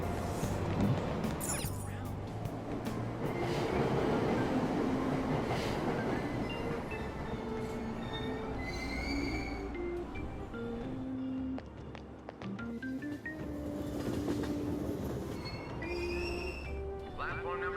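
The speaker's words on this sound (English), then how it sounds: "Platform number 2, service to Asakusa is departing soon." A Tokyo subway train departing a station in the video game Persona 5 Royal, wheels rumbling and squealing as it pulls away, with station announcements heard over it.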